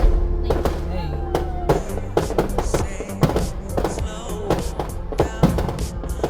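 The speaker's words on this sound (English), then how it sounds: "The first firework shoots into the sky. And boom, the night explodes with colors." Independence Day fireworks burst over Rawalpindi at night, a rapid barrage of loud booming cracks and pops layered thickly together, with a crowd's voices and cheers mixed underneath.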